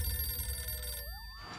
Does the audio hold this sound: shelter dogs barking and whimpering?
no